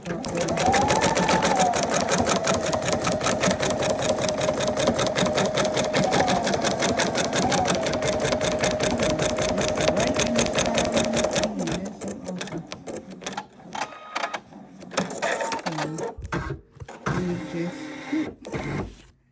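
An embroidery machine stitching on a towel runs loud and close with a rapid, steady mechanical clatter for about eleven seconds, then stops, leaving quieter handling clicks and knocks.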